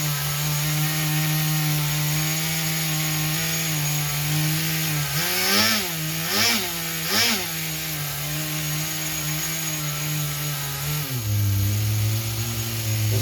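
A small nitro RC engine with a single-needle carburetor idles with a steady high-pitched buzz, briefly revving up and down three times before settling back to a slightly lower idle.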